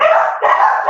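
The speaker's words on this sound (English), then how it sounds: "dogs are barking" Dogs barking indoors, a loud, continuous run of close yaps and barks that fills the whole moment without a break.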